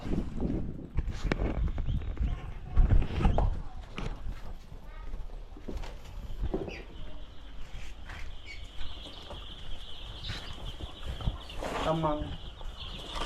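Chickens cluck in short bursts nearby, with people talking over a busy outdoor background.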